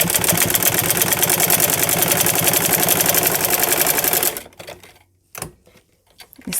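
Sewing machine stitching a straight seam along fabric pieces for a flower latkan, a steady rapid mechanical chatter running loud for about four seconds before stopping abruptly, followed by a few faint handling knocks.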